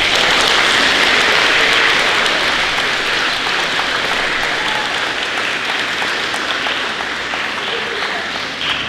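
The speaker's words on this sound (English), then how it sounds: "Give them a round of applause." At a middle school academic awards ceremony, a large audience claps for the honored students, a loud, dense applause that holds steady before gradually easing near the end.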